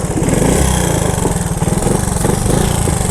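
An old, long-abandoned Honda three-wheeler's small engine runs close by with a loud, rough, rapidly pulsing putter.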